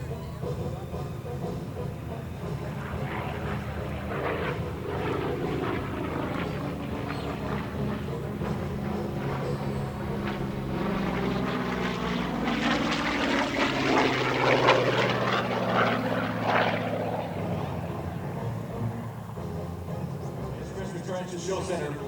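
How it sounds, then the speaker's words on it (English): A CAF FG-1D Corsair propeller warbird flies a super slow roll at a regional air show, its engine droning loud and steady as the pitch sweeps down and up while it passes, under a commentator's voice. "From your left, Chris Avery, and the super slow roll."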